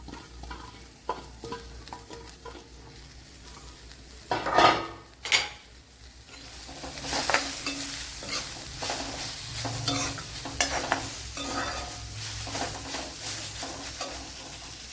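Chopped medium-sized onion dropped into a hot pan for a duck egg stew, followed by steady sizzling and frying with a utensil stirring and scraping against the pan, a couple of sharper clanks near the start, no talking.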